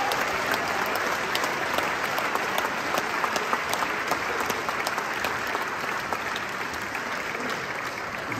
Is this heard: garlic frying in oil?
no